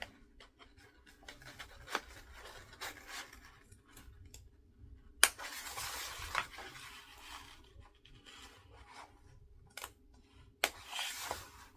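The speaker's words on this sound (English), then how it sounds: "some sharp snips to cut those triangles, making sure you do not cut your threads" Sharp sewing snips trim small fabric triangles close to the seam corners, giving quiet scattered clicks and brief cutting sounds with a few louder handling rustles.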